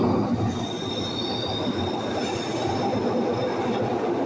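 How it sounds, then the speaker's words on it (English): A Glasgow Subway train, number 303, pulls out of the station into the tunnel with steady, loud rolling rumble and a high, sustained wheel squeal throughout. "And there goes 303 into the tunnels."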